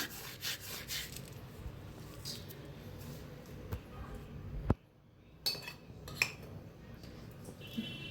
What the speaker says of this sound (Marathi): आता ह्याच्यावर टाकायचं आहे ओवा, हातात असा घासून टाकायचा